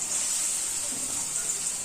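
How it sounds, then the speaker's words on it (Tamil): Finely chopped onions drop into heated oil in a pan and fry with a steady, bright sizzling hiss that holds at an even, moderate level throughout, with no voices over it. "வெங்காயத்தை போட்டு நல்லா வதக்கணும்."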